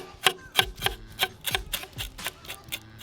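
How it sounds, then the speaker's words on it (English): A kitchen knife scrapes scales off a salmon in a steady series of about ten short, crisp rasping strokes, close and fairly loud with no talking. "we're gonna get off some of these scales and just using our knife"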